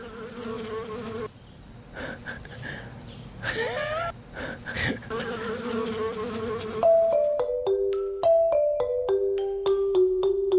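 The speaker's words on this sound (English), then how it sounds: "And the bees have found me again." Bees buzz and drone close by in a forest in Hoa Binh, Vietnam, their tone rising and falling, with a steady high hum and a series of brief melodic tones toward the end.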